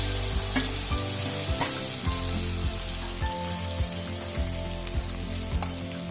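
Stuffed okra (bhindi) frying in hot oil, a steady close sizzle and crackle with regular scraping strokes of a spoon stirring through the pan, punctuated by soft knocks, with no talk.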